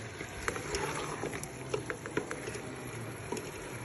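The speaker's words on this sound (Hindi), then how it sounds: "आलू और बैंगन हमने अच्छे तरीके से भून लिए हैं" Potatoes and eggplant frying in a pan over a medium flame for aloo baingan, giving a soft, steady sizzle with scattered light pops and crackles throughout.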